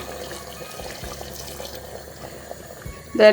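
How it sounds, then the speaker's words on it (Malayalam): Hot water poured from a kettle into a pot of beef for kappa biriyani, a steady close liquid stream running throughout, with a brief louder splash near the end. "കെറ്റിൽ വെള്ളം ചൂടാക്കിയിട്ട് അത് കുറച്ച് ഇതിനകത്തോട്ട് ഒഴിച്ചു കൊടുക്കുവാണ്"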